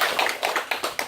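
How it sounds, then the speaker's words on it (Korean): An audience at a Buddhist temple dharma talk claps, a short burst of brisk, fairly close hand claps in a quick, uneven rhythm. "이 교사님이랑 박수 한번 주세요"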